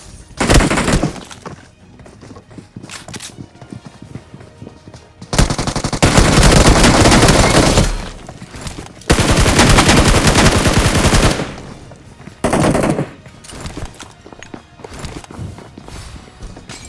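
Automatic gunfire in the mobile battle game BGMI comes in several loud, sustained bursts of rapid shots, with quieter stretches of movement and scattered single shots in between.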